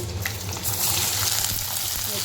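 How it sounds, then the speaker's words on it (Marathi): Garlic dropped into hot oil for a dry bitter gourd dish, giving a steady, close hiss of frying with faint clatter, no talk. "तापलंही तेल तर त्याच्यामध्ये आपण लसूण टाकूया"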